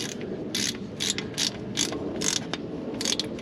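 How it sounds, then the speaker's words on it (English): A ratchet with a 3/8 socket clicks in short repeated bursts, tightening the rear differential drain plug on a Land Rover LR3/LR4, quiet and close with steady rhythmic pawl clicks. "then you just tighten it up again with your 3/8 socket"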